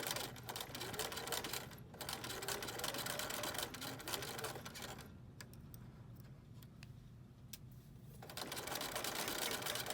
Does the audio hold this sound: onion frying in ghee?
no